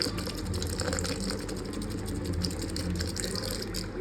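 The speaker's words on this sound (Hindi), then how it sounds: "और अब हम इसमें पानी डाल रहे हैं।" Water poured into a blender of protein powder, banana and oats makes a steady, continuous rushing fill sound, close and fairly loud, with faint mechanical rattling underneath.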